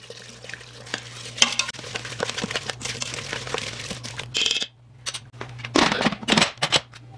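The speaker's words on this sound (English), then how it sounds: "So just give it a real quick mix to stir up the ingredients before we throw our lid on." Apple pie oatmeal ingredients get a quick stir, a close, continuous scraping and rustling of spoon through thick mixture with a brief pause and a few louder scrapes at the end.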